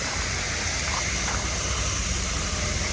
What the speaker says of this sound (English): They're getting watered right now. You can hear the water going.